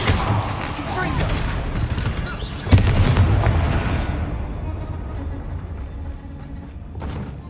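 A Confringo fire spell blasts in Hogwarts Legacy, one sharp boom rising out of busy battle noise and then fading into a lingering rumble.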